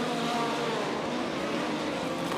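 Race cars roar past on a circuit during a crash-filled stretch of racing, a dense, steady engine drone with no clear pass-by peaks, heard at moderate level without commentary.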